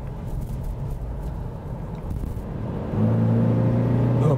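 Toyota Fortuner GR Sport 4x4 with a six-speed automatic and rear-wheel drive, accelerating on kick-down, a steady cabin rumble of engine and road noise that rises into a louder, deeper droning tone in its last second and a half.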